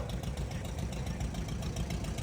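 A 1946 International Harvester tractor engine idling at a heritage weekend tractor parade, a steady low rumble with a regular knocking pulse, loud and continuous with no talk.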